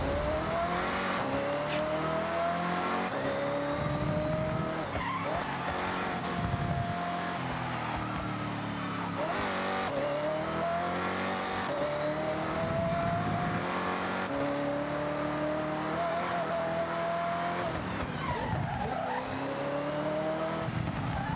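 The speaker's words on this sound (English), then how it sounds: "Just warming up the tires, okay? A little bit of loss of grip back there." Tires squeal and slide as a car loses grip in the racing game Forza Horizon, wavering high tones running over a constant engine roar for the whole stretch, loud and close with no talking.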